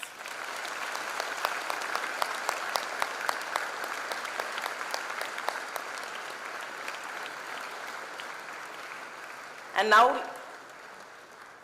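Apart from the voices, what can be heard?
audience applause at induction programme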